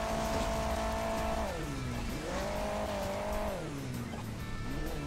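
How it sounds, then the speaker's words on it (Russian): A tank's engine drives across a track in the mobile game Hill Climb Racing 2, a steady loud motor tone whose pitch dips and rises repeatedly as it climbs and coasts, with no talk over it. "Танк, опять танк, ребята, здесь."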